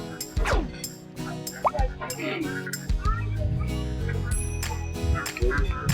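Geese honk and ducks quack repeatedly amid splashes while being fed at Lake Bafa, Turkey, with background chatter, a voice and other people talking nearby.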